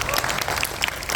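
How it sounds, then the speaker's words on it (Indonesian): Short burst of applause for Al-Farizi at an innovation challenge finalist presentation, a steady crowd clapping texture lasting about a second with some voices mixed in. "Tepuk tangan buat Al-Farizi"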